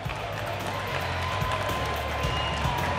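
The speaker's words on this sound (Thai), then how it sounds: "แฟนมวยนี่ยืนปรบมือให้หมดแล้วนะครับยืนปรบมือให้รอบสนามเลยครับ" A Muay Thai crowd applauds steadily around a stadium ring after a bloody bout, a dense wash of clapping with low rumbling noise and a commentator's voice running underneath.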